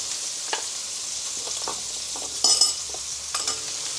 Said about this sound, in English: I'm going to roll this butter in here so we can make the sauce for the steak.